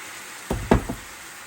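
Carrots, onions, celery and garlic hit a hot pan with white wine, giving a few sharp bursts of sizzle and stirring clatter up close, then settling back to a low hiss.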